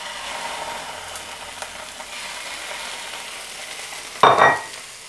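Salmon laid skin-down in a hot frying pan gives a sudden loud sizzle near the end, after a stretch of faint kitchen background noise.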